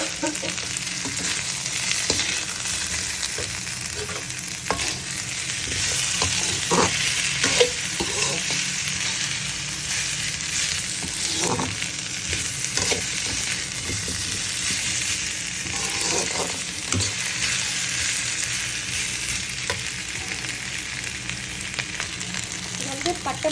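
Cinnamon and chilli frying and being stirred in a pan for chicken black pepper fry, a steady close sizzle with intermittent scraping stir sounds throughout.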